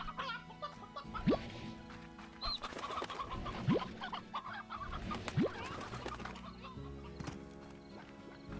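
Stony hens from the video game Slime Rancher cluck and coo in a busy ranch scene, with repeated nearby bird calls over layered game music and effects.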